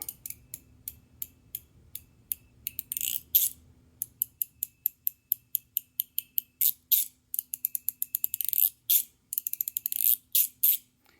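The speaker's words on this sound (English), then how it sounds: "So this is when you use it fast, you get that almost like zipper." Rapid bursts of clicky, zipper-like sliding, some fast runs and some slower strokes, crisp and close with short pauses between.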